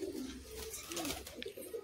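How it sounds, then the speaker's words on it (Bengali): A pigeon gives soft, close cooing calls in short rising and falling phrases over a faint background hum, with no one speaking. "এই পায়রা অত বেশি আর দেখা যায় না।"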